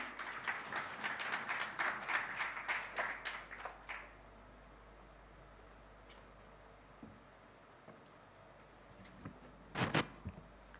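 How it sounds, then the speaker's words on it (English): Thin, quiet clapping from a small audience at a German investors' summit in a hotel hall. It runs as a rapid patter for about four seconds, then fades to scattered isolated claps with a brief burst near the end. "Can we have a round of applause?"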